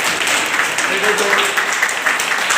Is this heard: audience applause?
yes